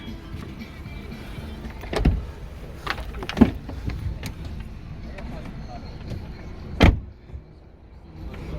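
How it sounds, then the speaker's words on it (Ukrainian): Front and rear electric windows of a five-door Volkswagen Golf hum up and down in short motor bursts, with a few clunks and door-like thumps in a quiet interior. "Підйомнички передні, задні."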